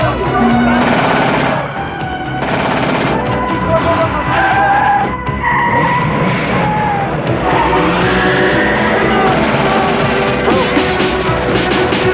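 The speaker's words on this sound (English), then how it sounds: "Look, for example, at this scene involving a new edition of Bond's famous Aston Martin." Aston Martin skidding in a James Bond film chase from The Living Daylights, with loud tire screeches and engine roar mixed with rapid gunfire-like bursts and a dense action soundtrack, continuous and close throughout.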